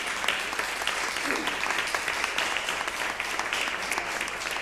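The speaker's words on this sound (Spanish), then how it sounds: "Un aplauso para ella." Audience at a Spanish book presentation claps steadily in a continuous, moderately loud round of applause with no voices over it.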